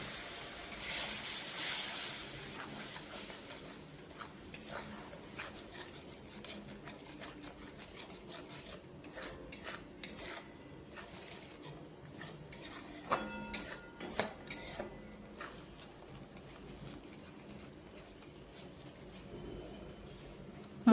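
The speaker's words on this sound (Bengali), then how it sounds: "সামান্য পরিমাণ গরম জল দিয়ে আমি মশলা কষিয়ে নেব" Spice paste with mustard paste and a little hot water being stirred and sautéed in a pan, a low simmering hiss under frequent metallic clinks and scrapes of a spatula against the pan, close and moderately quiet.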